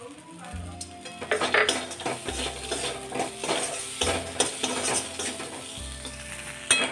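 Cashew nuts sizzle in a pan with a little water for Basanti pulao, stirred with rhythmic scraping strokes and light metallic clinks over a steady frying hiss.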